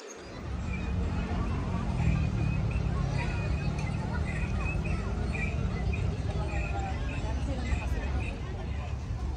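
Pigeons cooing and calling in a small mini aviary at an urban park, their soft repeated calls threaded through steady crowd babble and distant traffic noise throughout.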